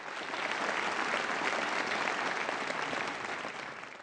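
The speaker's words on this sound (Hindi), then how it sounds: "जोरदार तालियां" Loud, dense audience applause at a televised Indian comedy contest, an unbroken wash of clapping that holds steady for about three seconds and then eases slightly toward the end.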